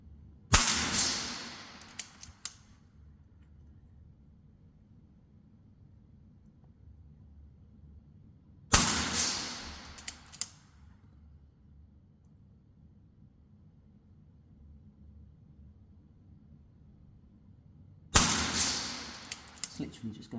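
An AGT Manul .177 premium air pistol fires at a target 15 yards away. Three sharp, fairly loud cracks come roughly nine seconds apart, each followed by a short decaying ring over a faint background hum.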